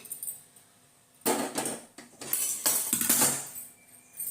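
Dry-roasted chana dal is tipped from a pan into another container, with a few bursts of rattling, clattering grains and metal scrapes at close range, separated by short quiet gaps.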